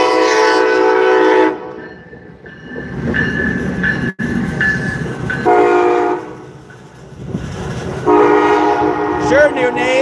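A loud Amtrak train passing close by, its horn blaring in long harmonic blasts at the start and end. Rumbling wheels and rail clatter fill the gap between the blasts.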